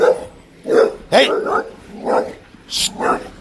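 A dog barks loudly and close by in a series of about six sharp barks and yips spaced across a few seconds.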